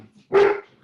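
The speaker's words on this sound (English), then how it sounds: "Sorry about my dog." A single sharp bark from a dog, close and loud, one short burst with nothing else around it.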